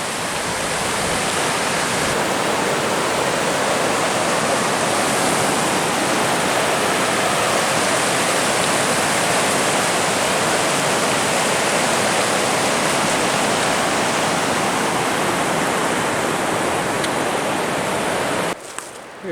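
Red Creek rushes steadily in Dolly Sods Wilderness, West Virginia, a loud, unbroken wash of flowing water heard close by from beside the trail, with no voices, fading out abruptly at the very end.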